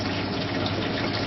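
Cold mains water pours into a cooking pan in a commercial cooking unit, a steady, loud rushing gush with no pauses.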